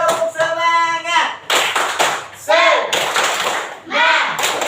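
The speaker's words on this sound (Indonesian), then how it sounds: "Sekarang kita beri tepuk semangat." An Indonesian classroom performs a tepuk semangat spirit clap, rhythmic bursts of group clapping mixed with children's chanted voices, loud and close with short pauses between phrases.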